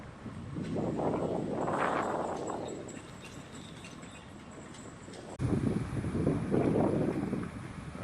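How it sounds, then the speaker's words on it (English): Strong, gusty wind on the River Ouse buffets the microphone in heavy rumbling surges, easing in the middle and then roaring back loudly near the end, with no voices. "It's a nasty, nasty wind today."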